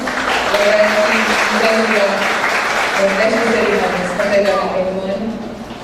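A university launch ceremony audience applauds an introduced professor, a broad wash of clapping that runs throughout while voices are heard talking over it, tapering slightly at the end.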